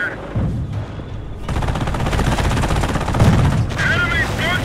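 Battle din in Company of Heroes, with continuous machine gun fire and scattered gunshots rolling under a radio-style voice.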